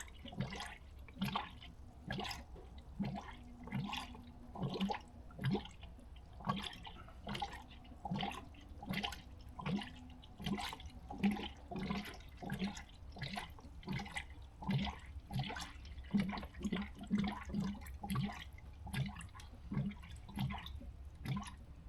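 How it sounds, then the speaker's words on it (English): Air bubbles gurgling up through orange 50-50 coolant as a 1998 Chevy K3500 radiator is filled to the top, a steady run of soft, close watery blips and drips repeating every half second or so. "It's got air bubbles coming up as we get closer to the top"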